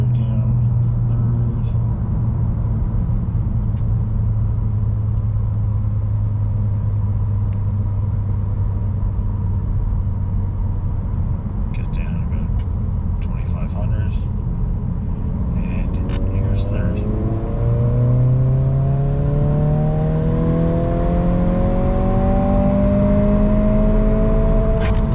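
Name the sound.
2022 Honda Civic Si engine accelerating during third gear roll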